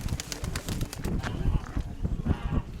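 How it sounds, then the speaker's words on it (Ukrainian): Soft pigeon cooing mixed with low murmuring and rustling close by, a steady busy texture with no clear speech. "Красивий, красивий голуб"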